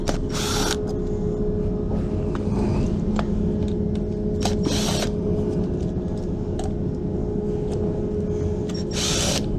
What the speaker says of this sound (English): There's something rolling around in this thing.